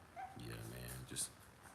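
Four-week-old puppies give soft yips and whimpers close by, mixed in with people talking over them.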